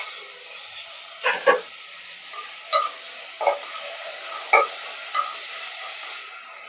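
Mint and coriander leaves sautéing in a pan, with a faint background sizzle broken by several sharp, separate stirring clinks and scrapes spaced a second or so apart, no voices.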